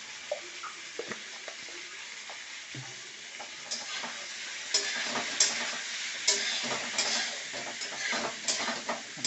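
Vegetable curry with salt and turmeric being stirred in a pan, soft scraping and sizzling strokes that grow busier and louder toward the end, with occasional light clinks and no talking.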